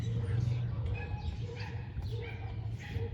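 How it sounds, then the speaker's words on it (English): A dog barks a few short times in the distance, faint yips scattered over a low background hum in a garage setting, with a voice speaking nearby. "Don't mind the barking."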